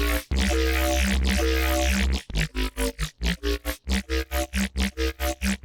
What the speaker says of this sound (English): I added Tremolator on the bass